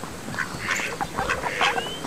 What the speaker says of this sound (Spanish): Y por ahí los patos, me encantan los patos, en serio.